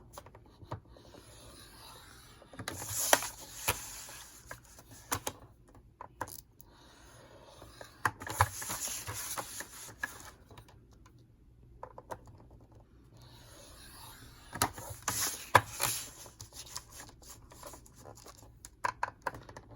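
A scoring tool rubs and scrapes along a 1 inch score mark on craft paper for a treat box, making repeated short dry scratching strokes in three bursts with quiet gaps between.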